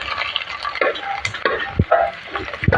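Rice papad frying in hot oil in a kadai, with a steady close crackling sizzle and occasional sharper pops and stirring clinks over the full stretch.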